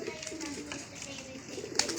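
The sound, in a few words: racing pigeon cooing after arriving at loft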